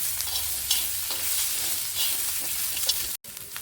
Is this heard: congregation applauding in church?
no